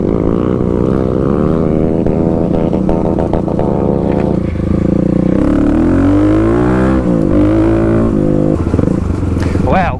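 A Kawasaki KLX351 dual-sport motorcycle on fresh Tusk DSport tires rolls over gravel, its engine droning steadily loud and close with rising and falling revs, while a rider's voice talks over the ride.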